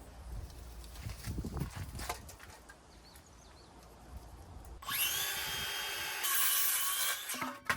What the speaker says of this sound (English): Gotta say, I much prefer using this battery-powered saw.